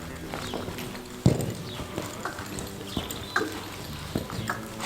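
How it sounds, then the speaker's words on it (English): Horse hooves clip-clopping on an arena surface during a western riding demonstration with spins, a steady run of close, distinct footfalls with one heavier thud early on. "What an absolutely amazing horse and such a great demonstration."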